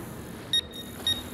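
Mine scanner in the Mass Effect Andromeda video game giving two short, bright electronic beeps about half a second apart over a steady low game background hum.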